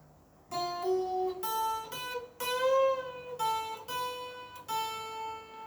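A slowed-down guitar phrase rings out note by note, with sustained tones that bend upward and slide between pitches, played alone with short gaps between phrases.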